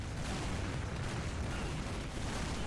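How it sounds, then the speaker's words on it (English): A dense, roaring bomb explosion in a video game fills the whole stretch with continuous loud, rumbling noise. The rumble stays steady throughout without a distinct single boom, and no one speaks. "Nice bomb."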